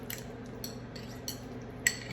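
A utensil scrapes and clinks against a dish while rehydrated chicken fajitas from the microwave are stirred, giving a few sharp taps over a low steady background hum.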